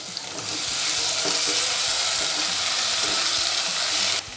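Finely chopped red chili being stirred into garlic and ginger frying in a pan for Schezwan chutney, producing a loud, dense, continuous sizzle with scraping stir noises, which drops off abruptly at the end.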